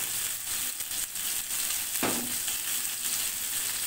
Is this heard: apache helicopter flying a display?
no